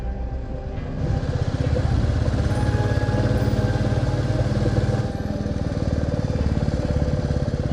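A vehicle engine drones steadily at low speed on a forested ghat road at Satpayari Ghat, its loud, close, pulsing hum continuous throughout with a slight dip midway.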